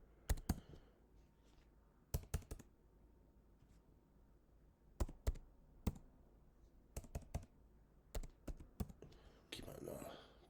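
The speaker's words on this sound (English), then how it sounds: "Typing the wrong thing there." Quiet bursts of keyboard typing, clusters of sharp clicks separated by pauses, close by, with faint talk at the end.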